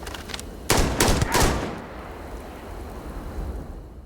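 A short burst of rapid gunfire in the sci-fi video game Starfield, several loud overlapping shots for under a second before a fading, rain-like rumble tail.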